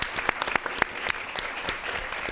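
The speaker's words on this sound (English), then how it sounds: "Could we give them a round of applause as well for their great efforts?" An audience at a policy event on India, Japan and the United States gives a round of applause, a steady patter of many hands with sharp individual claps standing out, fairly loud and without talk.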